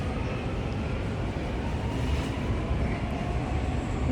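Metro train rumbling inside an underground station, a steady broadband roar with low rumble running continuously throughout, fairly loud and close, with no voices on top.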